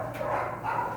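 A dog barks and yips at a rescue ranch housing about 30 dogs, a steady run of close barking with no talk.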